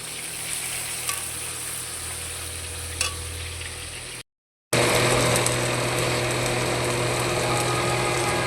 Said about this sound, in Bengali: ফোড়নে দিলাম শুকনো লঙ্কা গোটা জিরে আর দেবো পেঁয়াজ